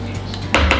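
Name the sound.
dry muffin ingredients dumped into bowl of wet ingredients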